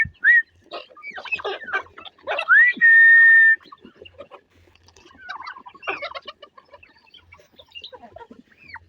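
Nearby chickens about three to three and a half months old cluck and squawk in bursts, with a few drawn-out calls and quieter pauses between.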